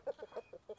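Chickens on a small family farm cluck softly at feeding time, a handful of short, quiet clucks in quick succession.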